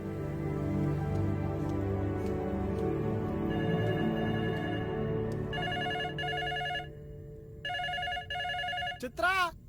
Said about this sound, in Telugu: చిత్ర, ఆ ఫోన్ కాస్త చూడు.